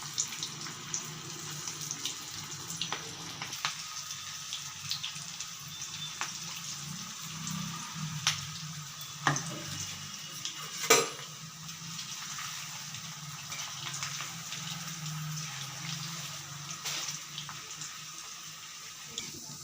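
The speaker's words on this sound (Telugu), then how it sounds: "ఇలా ఈ విధంగా కొంచెం రంగు మారే వరకు ఫ్రై చేసుకోవాలి." Cauliflower pieces frying in hot oil, a steady hissing sizzle that carries on throughout, with occasional louder pops and crackles and faint background noises.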